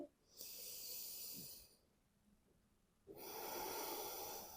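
A person breathes slowly and audibly during a yoga pose, close to the microphone. One long breath is followed by a quiet pause, then a second airy breath begins, with no speech.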